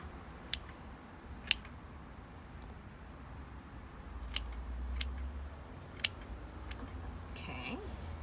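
Scissors snip while trimming succulents for a pumpkin craft, a handful of sharp, separate clicks spaced a second or so apart against a quiet room background.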